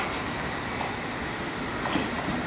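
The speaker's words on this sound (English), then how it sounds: "413 Metropolitan Line train to Aldgate" A London Underground Metropolitan Line train pulling into a station, a steady loud rumble of wheels and motors with faint rail squeal building near the end.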